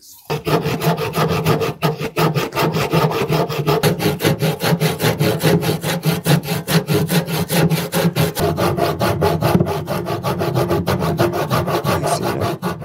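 Continuous rhythmic rasping of a hand saw cutting through wood for a fishing tackle box frame, steady back-and-forth strokes close up and loud throughout, with no talking.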